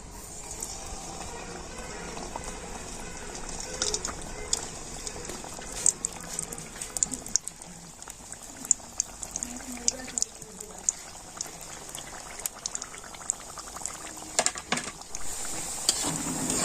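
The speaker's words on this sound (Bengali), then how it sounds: "সেই গরম তেলের মধ্যে আমি নাস্তাগুলো দিয়ে দেবো" Cauliflower snacks frying in medium-hot white oil give a low, bubbling sizzle with scattered sharp pops and crackles, steady and fairly quiet throughout.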